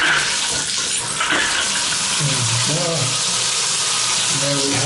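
A shower runs into a bathtub in a residential unit, with a steady full-band hiss of strong water pressure spraying and splashing throughout, under brief speech.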